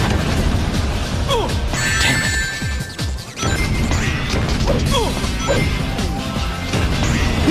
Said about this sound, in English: Multiple explosions detected.